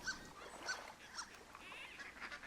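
Faint bird calls over soft nature ambience in the wilderness of the video game Firewatch, a few thin scattered chirps and cries at a distance, quiet and without talk.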